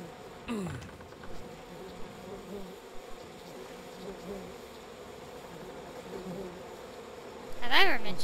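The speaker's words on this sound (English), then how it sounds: "Ollie, why is your house full of bees?" Swarm of bees buzzing steadily inside a house, a continuous droning hum throughout with a brief louder burst near the end.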